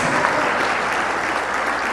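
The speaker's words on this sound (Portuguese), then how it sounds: "pode aplaudir ela merece" Audience at a religious talk applauds in a dense, continuous wash of clapping, loud and even throughout the short burst.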